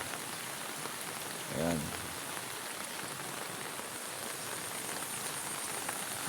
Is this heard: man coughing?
no